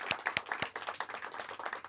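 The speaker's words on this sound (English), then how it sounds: "Let's have a round of applause for our candidates tonight" At a candidates forum, the audience claps for the candidates. The applause comes from a room full of people, is fairly faint, and opens with a few sharper nearby claps before settling into a continuous patter.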